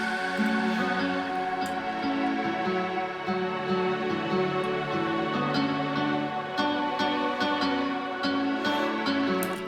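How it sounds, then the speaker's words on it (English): Layered guitars over a sustained strings bed in an FL Studio future bass arrangement, a dense, continuous and loud harmonic texture with steady rhythmic chords and no voices. "So basically, there's some guitars, and then I have some strings underneath."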